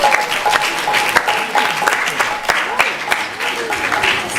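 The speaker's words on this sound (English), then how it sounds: "Please give them a big round of applause also." Sustained applause from an audience gathered at a temple, a steady patter of many hands clapping with voices mixed in beneath it.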